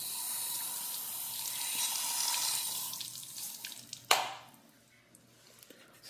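Running water rinses car paint after rust-stain removal, a steady close splashing hiss for several seconds that swells, then ends in a sharp splash and fades to faint drips.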